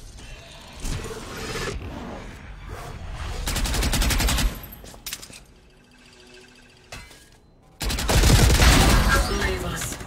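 Video game gunfire sounds as dense automatic bursts and rapid rattling volleys, loud and close, broken by short pauses before a heavy final burst.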